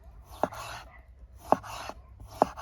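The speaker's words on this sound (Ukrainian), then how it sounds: "Та редиска умовне нарізання салату." An Ultra Outdoor knife by Za-Pas slices through radish for a salad, producing three crisp, evenly spaced cuts on a board in a quiet, close setting.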